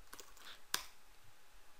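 Several quiet keystrokes on a computer keyboard while coding in Unity3D with C#, one sharper click standing out among faint taps, close and alone.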